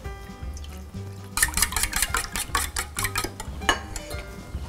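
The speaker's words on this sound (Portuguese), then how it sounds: "Agora batemos brevemente dois ovos com meia xícara de leite." Two eggs and half a cup of milk are briefly beaten in a bowl, giving quick, irregular clicks and taps over soft background music.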